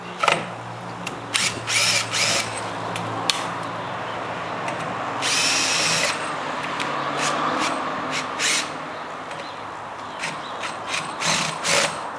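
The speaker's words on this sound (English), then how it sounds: "just take your screw gun and see how many you can get out" A screw gun drives out screws from a door frame in repeated bursts of whirring and ratcheting, separated by short pauses, loud and close.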